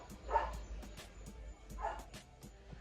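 A neighbor's dog barks twice in the distance, a second and a half apart, faint against a quiet kitchen background.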